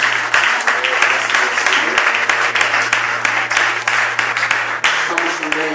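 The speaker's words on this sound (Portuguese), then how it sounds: "Salva de palmas pela vida dela." A church congregation gives a loud, dense round of applause, many hands clapping rapidly and steadily over a low steady hum from the room.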